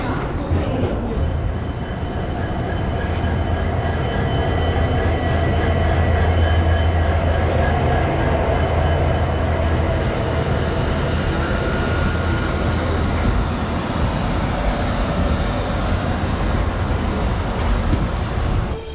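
The Kanchanjunga Express rolls steadily into Jalpaiguri Road with a continuous, loud low rumble and rattle heard from aboard, without clear talk over it.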